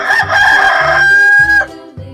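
A rooster crows once, loud and close, in one long drawn-out cock-a-doodle-doo with a sustained strained middle that cuts off sharply, over a soft repeating low background pattern.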